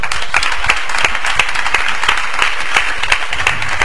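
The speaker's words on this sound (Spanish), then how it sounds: "La recibimos con un fuerte aplauso" Strong, dense applause from a crowd at an outdoor flamenco singing contest in Prado del Rey as a cultural official is welcomed, loud and unbroken throughout.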